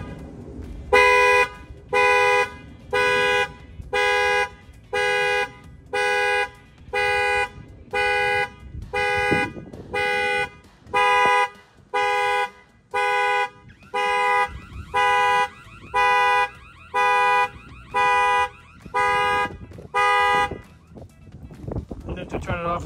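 The factory alarm on a 2024 GMC Sierra, set off by an add-on shock sensor, blares loud regular horn-like pulses about once a second for roughly twenty seconds before stopping, with occasional handling noise in between.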